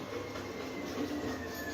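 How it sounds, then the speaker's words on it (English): A recycling collection truck outside rumbles with a low steady drone and a faint high squeal, muffled and distant, continuous for under two seconds. "sorry for the noise, recycle day"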